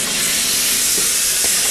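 A steam cleaner working on a car interior gives a steady, loud hiss that runs unbroken, with a couple of faint knocks in the background and no voices.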